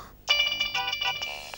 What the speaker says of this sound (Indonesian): Handphone bergetar